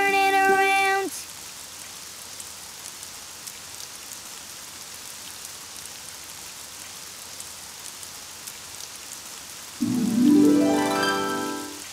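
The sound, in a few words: rain outside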